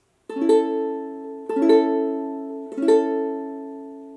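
A ukulele chord strummed three times at an even, unhurried pace, each strum ringing out clearly and decaying before the next, with no voices.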